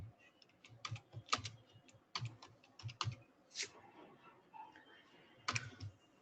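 Typing on a computer keyboard, quick close clusters of light key clicks in short bursts with brief pauses, alone and fairly quiet.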